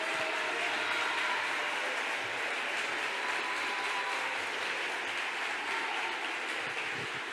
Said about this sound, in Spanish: a la que le damos un fuerte aplauso a Alicia.